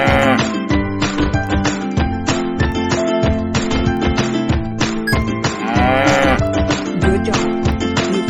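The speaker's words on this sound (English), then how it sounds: "Good job. You found the cow." A cow moos repeatedly in loud, close, drawn-out lows, one call after another with no gaps, and no voices.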